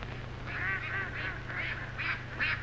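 Ducks quack repeatedly in an old black-and-white film comedy set on a marshy golf course, a run of six honking calls at steady intervals over a constant low hum and hiss of the old soundtrack, with no talk.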